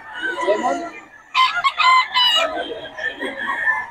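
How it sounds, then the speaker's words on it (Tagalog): A rooster crows loudly and close by at a Bocaue market in the Philippines, with a bright, multi-part call rising midway. Market chatter and voices carry on beneath and around it. "Diyan na pala manok si Boss Berry."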